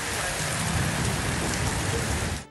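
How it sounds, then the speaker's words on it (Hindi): Steady rain in Lahore pours down as a dense, even hiss of drops hitting surfaces, loud and unbroken, with no voices. "लाहौर में बारिश ने सर्दी में इजाफा कर दिया"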